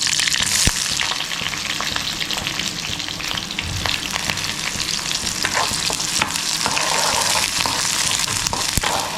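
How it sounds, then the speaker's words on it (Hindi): Chopped onion with bay leaf and green chilli fries in a pan, a loud continuous sizzle broken by frequent sharp clicks and scrapes of a spoon stirring. "तो थोड़ी देर इसको प्याज को अच्छे से फ्राई करते हैं ताकि ये हल्का ब्राउन हो जाए"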